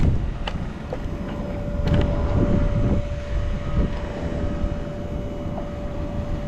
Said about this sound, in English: every time the blue and yellow and red planes, which is Southwest, would fly over, Tanner would yell, Northwest, Northwest.